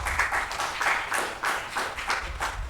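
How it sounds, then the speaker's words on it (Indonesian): An audience at an Indonesian tobacco excise talk show applauds during an award presentation, producing a short, steady stretch of mixed clapping in a hall, fairly close and even in loudness. "tepuk tangan untuk kita semua"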